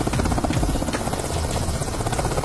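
A helicopter flies close by, its rotor making a loud, continuous rhythmic chopping and buzzing that stays steady throughout, with no talking.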